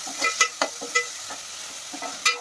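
Green masala paste of garlic, ginger, coriander and chilli roasting in a pan for a chicken dish, with a steady soft sizzle and a handful of spoon scrapes and stirs.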